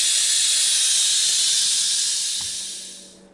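A pressure cooker's steam release valve vents after cooking meatloaf, giving a loud, steady hiss that holds for about three seconds and then fades out.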